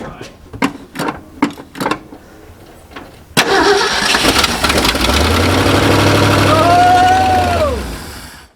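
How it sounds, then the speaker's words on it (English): An old 1969 Ford dump truck engine cranks with a few rhythmic starter bursts, then catches and runs loudly at a steady idle, close by, with some people talking over it. "So this is going to be what I hope to be the first fire."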